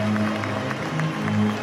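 Crowd applause in a football stadium just before the Albanian national anthem, a broad continuous rustle of clapping with a steady low hum and a faint voice underneath.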